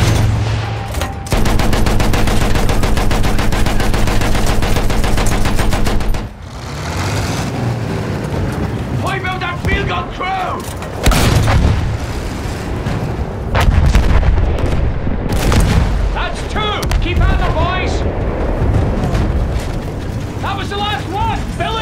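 Dense gunfire and heavy shelling in the video game Battlefield 1, with loud rattling bursts and booming blasts throughout, a sustained roar early on, and voices shouting over parts of the din.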